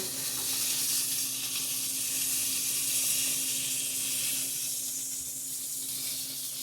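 Sausages sizzle steadily in a frying pan, a close, even hiss that keeps going throughout with no voices over it.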